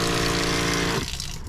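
Water gushes steadily from a small pump-fed camper sink faucet for about a second, then shuts off, leaving a faint trickle; close and alone.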